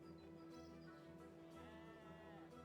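Sheep bleating in the farm video game Calfhood, a steady wavering bleat over a constant droning game soundtrack, moderately quiet with no speech.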